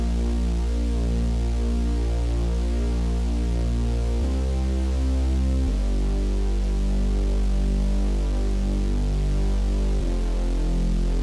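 A low, muffled saw bass drone layered over a deep sine-wave sub bass, holding steady notes that shift pitch a few times, with no voices.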